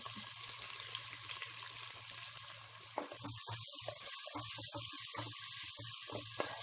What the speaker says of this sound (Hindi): प्याज को अच्छे से भून लें। फ्लेम को हाई पे ही रखिए।